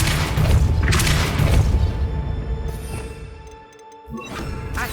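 Depulso spell cast in the Hogwarts Legacy video game: a loud, booming low-frequency blast with crashing debris at the start, rumbling on and fading, then a second surge near the end, with no talk.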